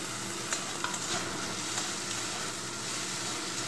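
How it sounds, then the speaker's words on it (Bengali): Onions stirred and fried in oil in a pan give a soft continuous sizzle with faint scraping clicks from the stirring, low and steady, and no voices. "তেলের মধ্যে নাড়াচাড়া করে নেব পেঁয়াজগুলো।"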